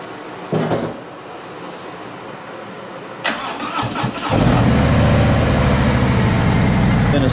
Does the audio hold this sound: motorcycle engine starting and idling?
yes